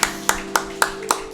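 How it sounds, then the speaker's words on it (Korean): A church congregation at a Wednesday service applauding, five sharp evenly spaced bursts of clapping in unison, close and loud over a sustained organ-like tone. "하나님께 영광의 박수 올려드리도록 하겠습니다"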